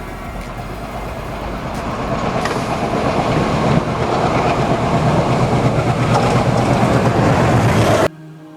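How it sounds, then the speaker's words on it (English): An express train rumbles past steadily with rhythmic clickety-clack of wheels on rails, loud and close, continuing for several seconds before cutting off. "there is an approaching train on this section"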